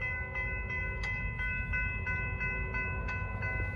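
Norfolk Southern freight train 28R rolling past near Charlotte, a low steady rumble under a sustained multi-tone horn, with rhythmic clicks of wheels over rail joints, fairly distant and even throughout.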